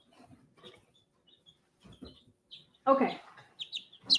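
Chicks in a brooder cheep in faint, scattered high chirps, with a closer burst of peeping near the end, among quiet rustling and someone speaking briefly.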